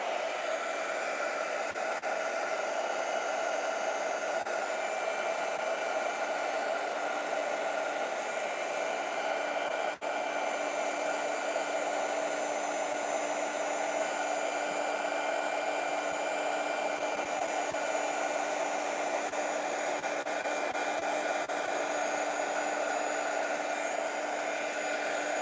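Heat tool blowing steadily while heat-setting the contents of a jar, a constant loud close whoosh with a humming motor tone that holds unbroken throughout.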